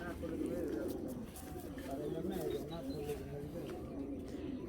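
Club racing pigeons of European lines coo in low, rolling phrases close by, while a person talks over them throughout.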